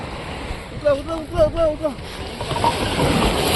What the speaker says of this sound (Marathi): हा बघा आपला होडी आलेली आहे इकडे